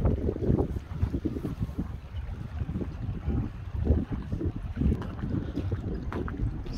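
Strong wind gusts while out on a boat on the water, producing a steady run of low, blustery rumbles and buffeting pulses against the microphone at moderate loudness, with no speech.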